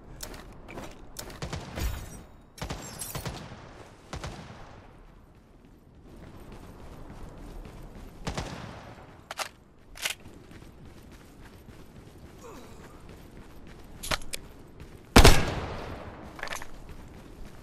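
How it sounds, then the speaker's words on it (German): Scattered gunfire in the game Lost Light, with sharp single shots and short bursts spread irregularly over quieter stretches, one especially loud crack near the end. "ich schieß hier die ganzen Diddles ab und du die Spieler"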